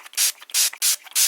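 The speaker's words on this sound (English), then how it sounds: "This is the Elf Power Grip Dewy Setting Spray." An Elf Power Grip Dewy setting spray is pumped four times in quick succession, each a short, bright hiss of fine mist, close and evenly spaced with brief clicks between.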